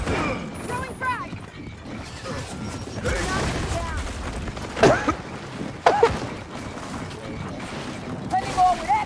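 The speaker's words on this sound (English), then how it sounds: "Throwing frag." A frag grenade in the Gears of War 4 game bursts in two sharp, loud blasts amid busy gunfire and game noise, with players talking throughout.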